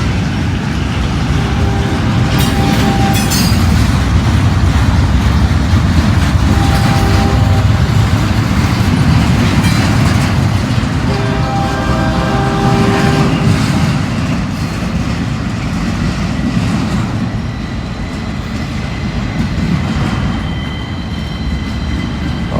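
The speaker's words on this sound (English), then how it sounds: "Since he's on the CSX tracks now, that northbound is coming," A CSX northbound freight train rolls past on CSX tracks, a loud, steady rumble of wagons close by with rhythmic clacking and squealing wheel tones throughout, no voices.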